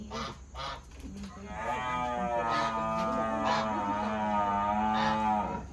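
A cow on a village farmhouse lets out a long, loud, drawn-out moo after a few brief calls, close by with faint talk in the background.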